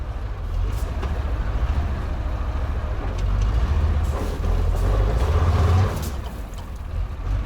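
A Kolkhida truck on Ural tyres grinds along off-road without its differential lock, its heavy engine droning loud and close, rising and straining in bursts, with wind and voices talking over it.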